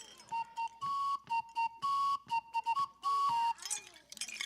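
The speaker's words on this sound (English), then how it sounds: "It's a stick whistle. It's made out of a stick." A wooden stick whistle from Germany sounds in a series of clear, steady pitched blasts, some short and some held longer, alternating between two tones with brief gaps, close and loud.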